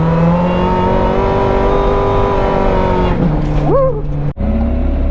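A Toyota AE86 drifting on a road course at night holds a loud, steady engine drone. Near the end it gives a quick rising rev and a short squeal-like sweep, then a brief cut before the engine resumes.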